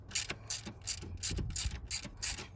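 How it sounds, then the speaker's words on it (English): A torque wrench ratchets in quick bursts, tightening spark plug hardware on a 2012 Dodge Journey: several short clicking runs in a regular rhythm, close and clear, with no talking. "I will make sure that these are torqued down properly."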